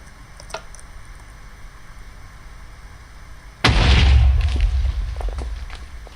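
A TNT cannon blast in Minecraft goes off as a single loud, deep explosion that booms and then rumbles away over a quiet, faintly hissing background.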